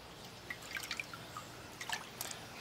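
Water drips from a face being washed with hot water at a sink: a sparse, irregular series of small, faint splashes over a quiet background hiss.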